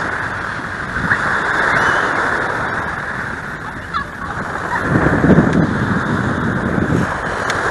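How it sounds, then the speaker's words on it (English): Waves washing onto the beach at First Landing State Park, Virginia, a steady broadband surf roar with heavy wind buffeting the microphone and a louder wash near the end. "This is your beach at first landing."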